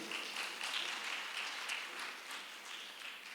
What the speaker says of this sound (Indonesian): Bisa beri tepuk tangan Royals Family